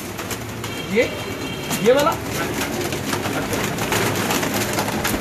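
Pigeons coo softly a couple of times at a loft of prized breeds in Lahore, under steady background noise and nearby talking.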